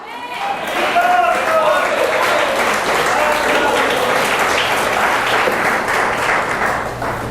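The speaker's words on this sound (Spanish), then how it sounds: "Usted con ese aplauso se está comprometiendo." A church congregation at a convention in Medellín breaks into loud, sustained applause, many hands clapping together in a dense wash that holds steady for several seconds before easing slightly at the end.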